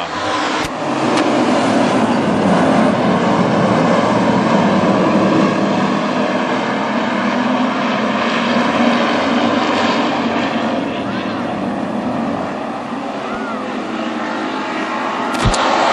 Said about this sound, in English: Tim Johnson now motors his way to the front